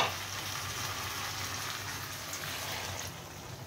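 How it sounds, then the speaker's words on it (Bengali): Water splashes into chicken frying in a pan, giving a steady, close, broad sizzle and hiss that holds evenly throughout. "এবারে আমি অল্প করে জলটা দিয়ে দেব"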